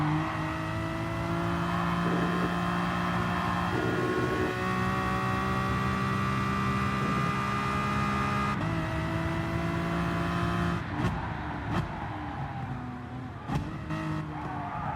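Aston Martin DP100 VGT race car engine in the video game Gran Turismo Sport, a loud steady high-pitched whine that shifts pitch through gear changes, with tire squeal and skidding toward the end, no talk.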